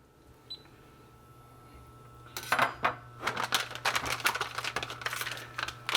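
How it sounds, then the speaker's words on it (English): A spoon clinks and scrapes against a pot while rabbit stew is stirred, producing a quick run of close metallic knocks and rattles after a quiet start. "I'm going to stir that around a little bit just to make sure that all gets mixed up pretty good."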